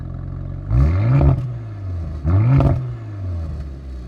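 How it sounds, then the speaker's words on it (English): A 2023 Audi RS5 Competition V6 exhaust with modified flaps revs twice in quick bursts, each a throaty rise and fall, with a low idle rumble between and after. "This is the new exhaust system, less sound insulation, modified hardware in the exhaust, modified flaps."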